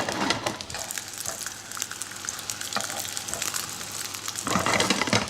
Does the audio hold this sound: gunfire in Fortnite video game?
no